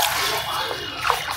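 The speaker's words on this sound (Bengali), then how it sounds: "তা আমি এখন এখান থেকে হাত পা ধোবো" Water in a temple pond being splashed while someone washes their feet: a brief, close sloshing splash with a sharper slap near the end, lasting just over a second.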